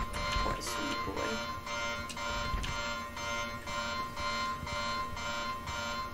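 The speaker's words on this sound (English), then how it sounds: "The alarm is sucky." A repeating electronic alarm rings in the horror video game Anthology of Fear, with regular pulses of about half a second each. It is steady and fairly loud over a low background hum, with a few brief clatters near the start.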